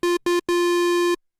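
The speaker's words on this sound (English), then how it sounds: "and then square." Square-wave oscillator on a Korg Prologue analog synthesizer sounds three notes at one pitch, two short stabs then a held tone, bright and buzzy, loud and alone.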